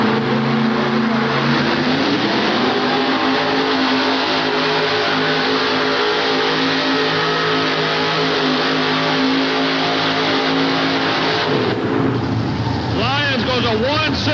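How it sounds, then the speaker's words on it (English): A pulling truck's Rodak engine roars loudly and continuously at a 1988 truck and tractor pull in Charlotte, North Carolina, holding a high, sustained rev for over ten seconds before the pitch shifts near the end. "Runs what they call a Rodak engine."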